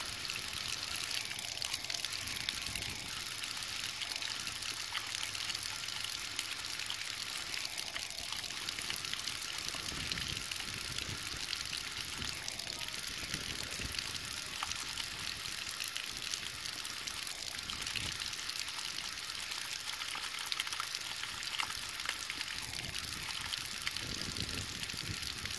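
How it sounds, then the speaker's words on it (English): Water gushes from an outdoor faucet as the line pressure is run off, a steady hissing splash that continues unbroken and fairly soft for the whole stretch, with occasional low knocks and handling noises and no one talking. "we're just going to open up the water and just run all the water pressure out so we can take the valve apart"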